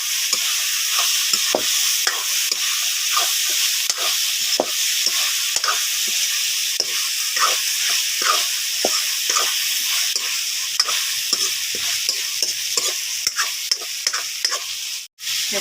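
Meat and potato curry being stirred and fried in a pan, a steady sizzle broken by frequent rhythmic scrapes of the spoon throughout, close and fairly loud with no talking.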